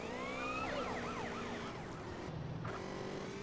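Wailing police car siren in a racing video game, rising and falling sweeps over a steady engine hum, close and loud.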